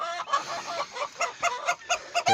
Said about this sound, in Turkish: horozumuz kızdı bize